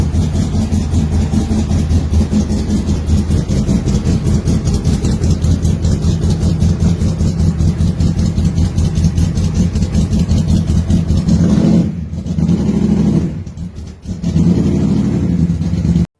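A 1956 Ford Sedan Delivery pro street car idles loud and close with a steady, rumbling engine note, briefly dipping in level near the end before settling back into the same throaty run.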